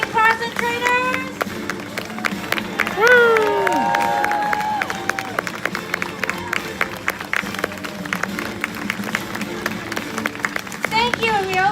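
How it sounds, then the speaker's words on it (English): A crowd at a zoo's Spring Spectacular show claps and cheers steadily for a graduating class and trainers, with whoops and shouted voices riding over the continuous applause. "And let's hear it for our graduating class and trainers."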